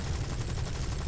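Rapid aircraft cannon fire in the War Thunder flight game, a dense continuous burst of loud gunfire with heavy low-end thump filling the whole moment.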